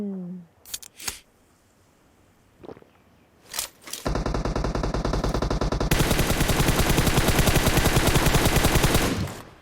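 PUBG Mobile gunfire: a few isolated loud shots, then a long, dense, rapid burst of automatic fire that runs steadily to the end.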